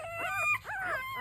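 Week-old American Bully puppies whimper and yip in a chorus of high, wavering cries, several pups calling close by with no talking.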